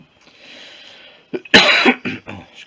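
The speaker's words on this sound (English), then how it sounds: "still got a bit of a cough" One loud, harsh cough bursts out close by, followed by a couple of smaller rough throat sounds after a quiet breathy lead-in.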